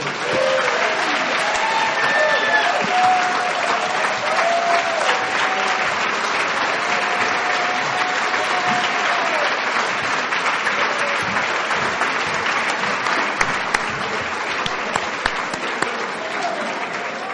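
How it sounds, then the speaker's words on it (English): A crowd at an AA speaker meeting in Atlanta applauds steadily, a dense, even wash of many clapping hands that stays loud and unbroken for well over fifteen seconds. "Let's give April another round of applause."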